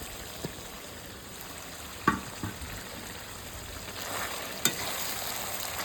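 Potato pieces added to village-style mutton curry frying in a pan, a quiet steady sizzle with a few sharp clinks of a utensil against the pan, close by and without talk.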